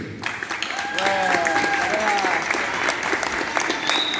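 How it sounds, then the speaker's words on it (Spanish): Sustained audience applause fills a live concert by a band, a dense steady clapping wash with cheering voices and a few brief tonal calls over it. "le vamos a dar un fuerte aplauso a nosotros, a todos ustedes"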